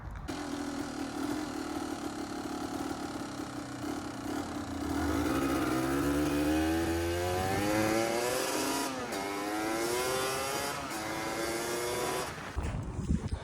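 A motorbike engine runs steadily and fairly loud, its pitch climbing and falling through several revs in the middle, with no talking.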